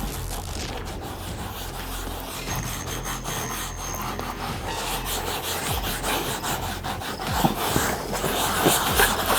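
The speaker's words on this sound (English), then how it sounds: "I just like to make sure that it's rubbed in really good" A hand rubs trim restorer into car plastic trim with continuous close scrubbing and friction, a steady coarse rasp that grows slightly louder over time.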